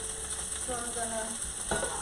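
Shrimp alfredo frying in a pan while being stirred, a steady close sizzle with scraping utensil strokes and a brief louder rattle near the end, no voices.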